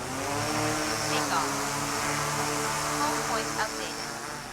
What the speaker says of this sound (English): They redesigned the propellers, and honestly, I don't know how, but this heavier drone became surprisingly quiet.